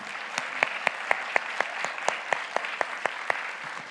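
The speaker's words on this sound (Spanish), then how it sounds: "Dele ese aplauso fuerte al Señor." Church congregation applauding loudly at a Spanish-language service, a steady wash of clapping with distinct sharp individual claps standing out at an irregular rhythm throughout.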